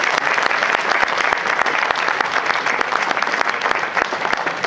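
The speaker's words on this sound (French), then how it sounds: "Je crois qu'on peut l'applaudir." Loud, dense applause from a crowd at a New Year's greetings event for a departmental councillor, sustained and even with sharp individual claps standing out throughout.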